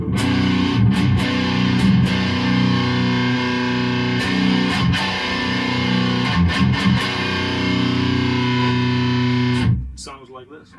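A distorted electric guitar, a Dime model, played through a Randall Century 200 amp with the mids scooped. It gives a thick, loud, sustained crunch of ringing chords with brief choppy breaks, fading out at the end.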